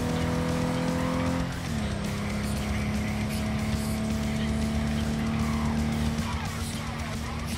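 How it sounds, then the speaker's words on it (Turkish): A car races at high speed in Cyberpunk 2077, with a loud, constant engine roar and tires squealing and skidding through a sustained stretch of driving. "Allah'tan araba gidebiliyor yani"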